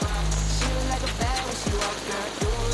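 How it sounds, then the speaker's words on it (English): Heavy rain pours down steadily during a downpour while someone fishes outdoors, a dense continuous hiss with low droning and sweeping tones running underneath throughout. "Okay, raining so hard."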